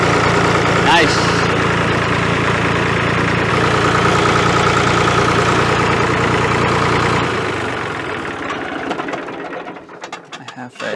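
A Massey Ferguson 231 tractor engine runs loud and close at a steady idle with mechanical rattling. It winds down and drops off after about seven seconds, leaving clicks and clatter, and there is some speech.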